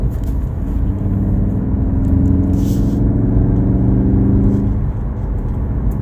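A 2019 VW Golf R Mk 7.5 in race mode pulls in third gear under moderate throttle, its engine rumble rising steadily in pitch for several seconds before easing off, heard from inside the car.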